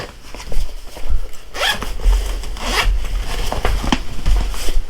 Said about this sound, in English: You got some thick zippers here.